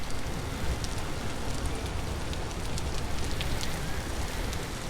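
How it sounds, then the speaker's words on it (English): Rain loop from the video game Vintage Story: a dense, even hiss of rainfall with scattered light drop ticks, steady and fairly soft throughout with no voices. "Can I just take a moment to appreciate the rain loop in Vintage Story?"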